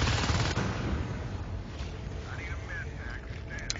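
Marines fire bullets in the Natural Selection video game, a dense rattle of rapid gunfire under a noisy wash, with a few high electronic chirps toward the end.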